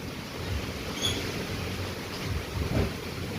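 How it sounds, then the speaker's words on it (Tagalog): Strong wind gusting with surf or waves in the background, a steady broadband roar that swells in brief bursts, with no voices. "Grabe, mahangin."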